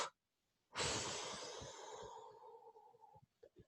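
One long, breathy exhale during seated chair yoga, starting abruptly after a brief quiet and fading gradually over about three seconds, close and soft, with small breath sounds at the end.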